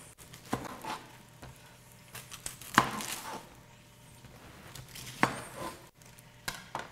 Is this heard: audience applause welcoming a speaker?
no